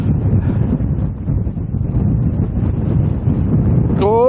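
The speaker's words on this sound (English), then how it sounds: "Ah, it's really windy." Strong wind buffets the microphone on an outdoor walk through woods, a continuous low roaring rumble that fills the whole stretch, ending with a brief rising voice at the very end.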